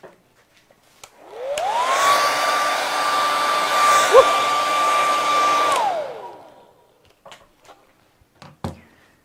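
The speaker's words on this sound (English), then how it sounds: "I said hair dryer." A hair dryer starts with a rising whine, roars steadily for several seconds while drying paint on a craft project, then spins down. A few faint clicks and knocks follow once it stops.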